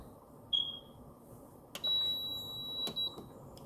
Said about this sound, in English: There goes the beep.